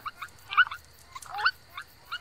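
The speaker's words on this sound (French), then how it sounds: "C'était le chant de poule sultane." Two short bursts of harsh, nasal clucking calls from a purple swamphen, separated by a brief pause, over a quiet, slightly noisy background.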